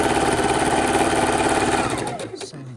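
A sewing machine stitches quilt seams in a steady, loud, rapid mechanical whir that runs continuously and then slows and stops near the end.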